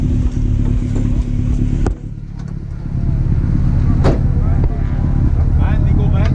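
A race car roars past at a track, a loud engine surge with a sharp pass-by sweep near the middle, set among steady engine and crowd noise.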